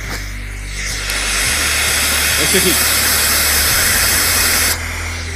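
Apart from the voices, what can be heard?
hissing static from a potentiometer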